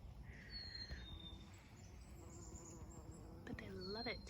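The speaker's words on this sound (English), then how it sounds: "the bees just keep coming to it" Bees buzz around flowering catmint in a summer garden, a faint, steady insect hum with occasional birdsong chirps drifting in from the background.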